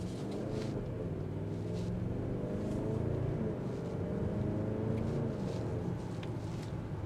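A 2025 Range Rover Sport SV on 23-inch wheels being driven: a low, steady engine and road rumble, muted and even throughout, with no talking.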